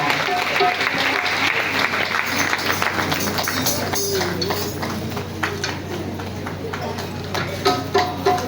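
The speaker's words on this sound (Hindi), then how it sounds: "ताली बजाकर आपका बहुत बहुत धन्यवाद।" Audience applause at a Kartik katha gathering in a Hindu temple hall, steady dense clapping that fills the whole stretch, with a voice speaking over it.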